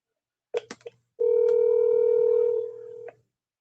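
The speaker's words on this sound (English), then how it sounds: "make this phone call to the Lou." Telephone touch-tone dialing: a few quick DTMF beeps, then a long steady dial or ring tone that drops in level before cutting off, close and clear with no talking.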